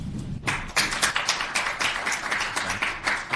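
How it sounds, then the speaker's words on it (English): Live podcast audience at a software testing conference applauding together for about three seconds, a dense, steady patter of many hands clapping in a room, fairly close and even in loudness, with no talking over it. "If you listen to the show, clap your hands."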